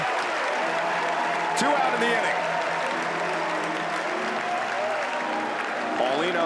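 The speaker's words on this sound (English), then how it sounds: "That fires up the crowd." A college baseball crowd in the stadium cheers and claps loudly after a sharp fielding play at first base, and a broadcaster keeps talking over the sustained applause.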